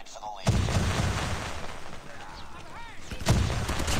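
Sniper rifle shots in a multiplayer hardpoint shooter game crack out twice, a few seconds apart, each a sharp loud burst over constant game noise and in-game voice callouts.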